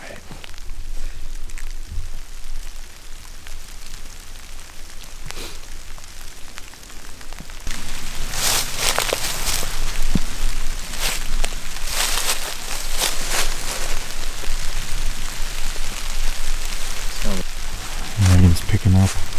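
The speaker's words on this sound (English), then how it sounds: "gradually the freezing rain began to pick up" Freezing rain falls at night in the woods, a continuous hiss of drops on leaves and ground that grows noticeably heavier partway through, with a few nearer splatters and taps close by.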